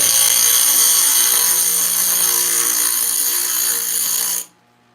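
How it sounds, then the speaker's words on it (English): A dressing stone held against a spinning grinding wheel gives a steady, loud, bright grinding hiss with high tonal whine, continuous for about four and a half seconds before stopping abruptly. "I'm going to dress the wheel before I get everything set up"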